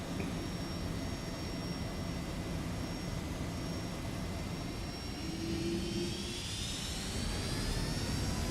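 Jet engines of a Boeing 757-200 spooling up for takeoff in the X-Plane 12 flight simulator, a loud steady roar with a rising whine that climbs and swells toward the end.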